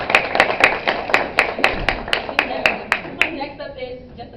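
An audience at a school Pride Day panel gives a short round of applause, with a few sharp, evenly spaced claps up close that fade out after a few seconds.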